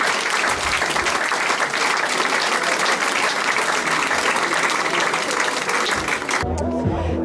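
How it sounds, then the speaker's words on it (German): Big, loud audience applause at the Schöne Münchnerin 2014 beauty pageant, dense sustained clapping from a large crowd that cuts off abruptly near the end as low music takes over. "Einen riesen Applaus"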